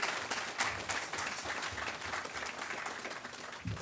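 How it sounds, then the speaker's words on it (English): A crowd at an outdoor groundbreaking ceremony applauds steadily, with scattered claps of moderate loudness heard from some distance throughout. "One more round of applause"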